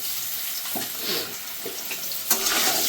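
Sliced radish drops into a pan of frying potatoes, setting off a steady sizzle with a few stirring scrapes and a sharper hiss near the end.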